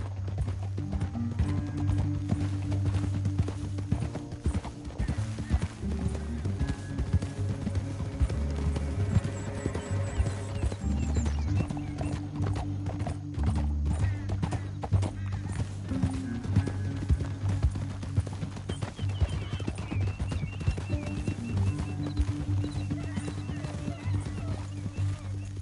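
Horses ridden through a canyon, their hooves clip-clopping in a steady continuous rhythm throughout, with occasional neighs and whinnies, under film music and some dialogue.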